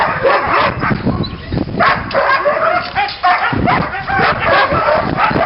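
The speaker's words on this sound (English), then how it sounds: "The dogs are all very excited because you guys are here." Several sled dogs at a husky homestead in Denali, Alaska bark, yip and whine excitedly in a busy cluster, close by and continuous with little pause.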